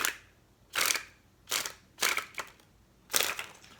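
Four short, crisp fluttering bursts of playing cards springing from hand to hand, spaced apart and fairly close.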